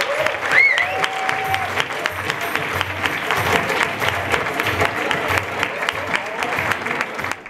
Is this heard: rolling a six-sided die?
no